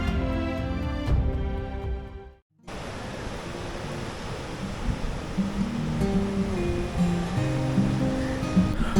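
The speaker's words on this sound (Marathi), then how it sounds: "अथांग समुद्राच्या लाटांना आव्हान देत आजही तो लढत आहे" Sea waves surge around Suvarnadurg, a stone sea fort standing in the open sea; a steady, loud roar of surf with one brief dropout partway through, no voices.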